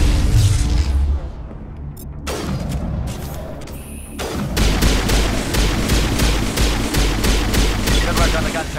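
Dense gunfire and bursts of automatic fire in the video game Mass Effect Legendary Edition come in rapid, repeating volleys, loud and close. A heavy boom rises midway and sustained shooting continues to the end, with a brief voice underneath.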